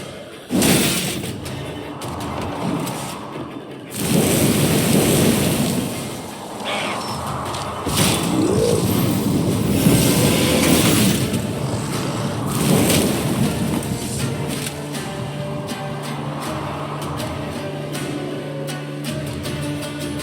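Thunderstorm in the video game Thronebreaker: The Witcher Tales, deep rolling thunder rumbles and heavy thuds over a bed of rain, loud at first and easing into a lower steady wash.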